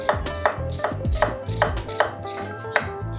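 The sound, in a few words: knife dicing onion on a chopping board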